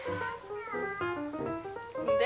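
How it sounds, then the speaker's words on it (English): Cats meow in a noisy place with dogs and children around, several rising and falling tonal cries in quick succession, fairly faint and mixed with background voices. "There we have the cats."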